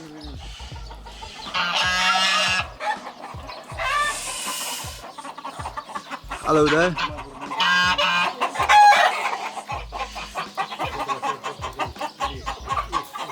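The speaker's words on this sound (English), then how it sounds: "Got a few ducks, a few chickens," Hens cluck and squawk in bursts on a farm in Alentejo, Portugal, with a rooster crowing partway through; a person briefly greets them over the lively, close flock.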